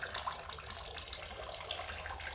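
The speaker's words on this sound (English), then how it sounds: "So I'm going to start pouring water in again here." Water poured into an air conditioning evaporator coil and flowing out, a steady splashing trickle like a running tap, quiet and continuous with no talking.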